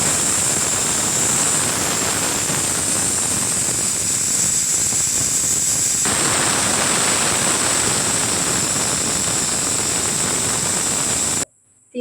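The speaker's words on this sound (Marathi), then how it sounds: "3 शिट्ट्या झाल्या. आता बंद करू आपण." A pressure cooker on a gas stove, cooking mixed vegetable pulao rice, releases a loud, steady hiss of escaping steam that runs nearly twelve seconds before cutting off abruptly.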